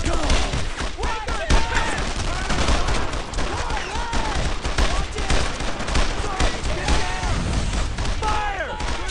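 Rifle and machine-gun fire from a World War II squad pour out nonstop in the Brothers in Arms: Road to Hill 30 game, layered with dense overlapping shots and thuds. Shouted voices cut through the shooting at times.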